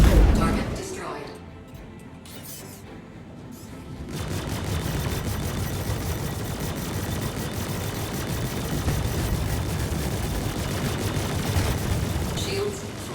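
Spaceship weapons firing in a Star Citizen dogfight with an Anvil Arrow, rapid repeated gunfire bursts over a rumbling engine bed, after an opening stretch of quieter sounds, with a synthetic cockpit voice announcing alerts.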